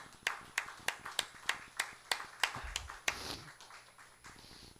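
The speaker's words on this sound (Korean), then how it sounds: "우리 하나님께 영광의 박수 올려드립시다" Rhythmic clapping from a church congregation during a Sunday morning service, about a dozen evenly spaced claps, somewhat faint and distant, fading into a softer scatter of applause at the end.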